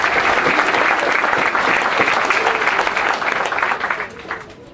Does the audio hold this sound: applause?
yes